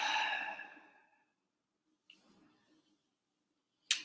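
A single long, close, audible exhale that fades away over about a second, followed by faint small clicks and rustles in near silence.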